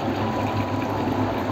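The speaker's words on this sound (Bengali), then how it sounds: "এবার আমি জলটা ঝরিয়ে নিচ্ছি।" Water drains off fresh vinegar-curdled chhena (cottage cheese) for rasgulla, heard as a short, steady rush of pouring, trickling liquid, close and fairly loud.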